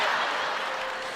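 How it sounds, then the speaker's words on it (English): Audience applause at a FlashPoint Phoenix event, a brief dense wash of clapping that fades slightly over about a second. "What are you clapping for?"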